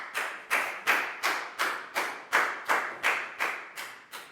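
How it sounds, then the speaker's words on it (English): A run of about eleven evenly spaced, crisp claps in a classroom, steady and close, each sharp hit fading quickly, with no voices over them. "big round of applause for Pat too"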